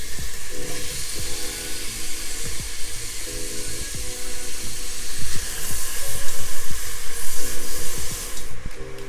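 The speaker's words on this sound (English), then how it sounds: "I'm gonna add in my onion and saute this for a few minutes." Chopped onion sautés in hot bacon oil for Southern black-eyed peas, giving a steady, loud sizzling hiss that rises slightly toward the end, with faint utensil knocks underneath.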